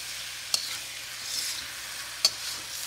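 A spoon scrapes through vegetable rice in a sizzling pan, with two sharp clinks against the metal over a steady hiss of frying.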